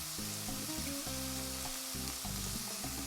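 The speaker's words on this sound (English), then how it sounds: "Fold it over and give it a gentle press. Cook until both sides are perfectly golden, crispy, and the cheese is melted." Steady crackling sizzle of a folded birria taco with melting cheese frying on a hot pan, a continuous close hiss with no talk.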